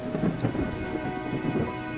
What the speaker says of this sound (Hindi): कई दिनों से लगातार हो रही मूसलाधार बारिश ने पूरे रामपुर की जिंदगी रोक दी थी।